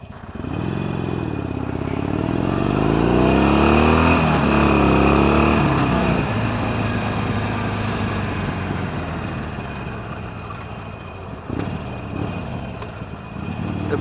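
A Harley-Davidson Forty Eight motorcycle engine runs loud and close, a deep throbbing rumble that swells and sags with revs over about fourteen seconds, with some mechanical clatter and no talk.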